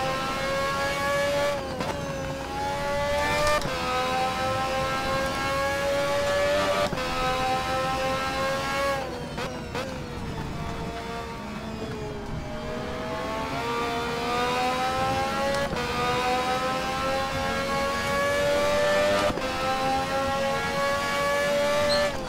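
A Koenigsegg CCGT race car engine in the racing game Race 07 revs hard through repeated gear changes on the Falkenberg circuit, its loud, steady whine rising and dropping with each shift, sustained throughout.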